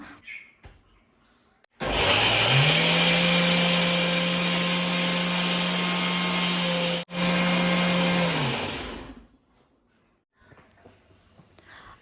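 A kitchen mixer grinder runs at full speed grinding chutney with a small piece of ginger, chili powder and salt, a loud steady whine lasting about seven seconds with a brief dip midway before spinning down.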